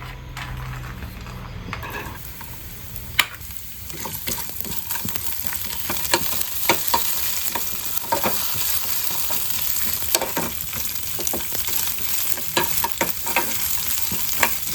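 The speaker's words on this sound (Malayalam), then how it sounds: "നമുക്ക് ഇതിലേക്ക് ആദ്യം തേങ്ങാക്കൊത്തിട്ട് കൊടുക്കാം" Coconut pieces frying in a pan for green gram dal payasam, a continuous close sizzle with scattered sharp clicks and scrapes of stirring throughout, no voices.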